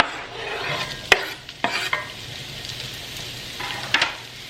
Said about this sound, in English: So 2 tablespoons of olive oil, and you are going to do 1 medium onion.